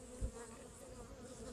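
Bees swarm an Airstone bee feeder with a soft, continuous buzzing hum, faint and steady, with one brief low thump near the start.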